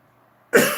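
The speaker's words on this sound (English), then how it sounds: "I got a tickle in my throat. You make me cough like crazy." A single sharp cough bursts out after a near-silent pause, close and fairly loud, fading quickly.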